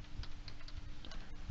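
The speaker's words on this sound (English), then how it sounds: "you just type in your description" Rapid typing on a computer keyboard, a close, steady patter of light key clicks with a few slightly louder taps, heard alone with no talk.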